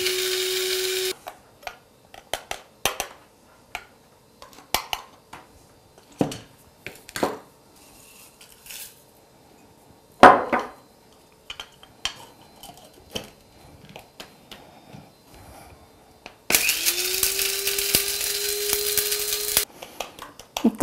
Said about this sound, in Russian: Итак, перемалываю чай.